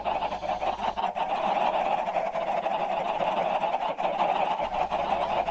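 Many chickens clucking at once in Minecraft, massed around an auto-clicking chicken cannon: a loud, dense, continuous wall of overlapping squawks and clucks with no pauses, filling the whole stretch.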